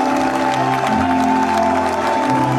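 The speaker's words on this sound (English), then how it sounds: "Make it bigger, make it louder for Jesus. Clap louder." A church revival audience claps and cheers for Jesus, a dense continuous wash of applause over sustained keyboard or organ tones, loud and close throughout.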